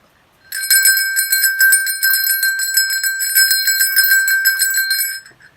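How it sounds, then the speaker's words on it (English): A small bell jingles rapidly and continuously for about five seconds, bright and clear, then stops. "That's a wonderful sound, the magic sound of a bell from one of the reindeer."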